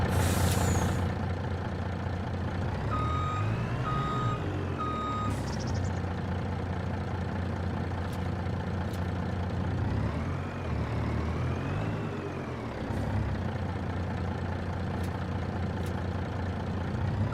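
A truck in Farming Simulator 25, loaded with fruit, rumbles steadily while a high reversing beep repeats, with sharp hissing air-brake releases at the start and again midway, the loud engine drone running unbroken throughout.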